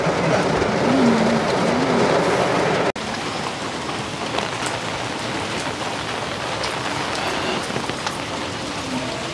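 Heavy typhoon rain pours down at night as a continuous, dense hiss of drops hitting surfaces nearby, with a brief break around three seconds and a faint voice early on.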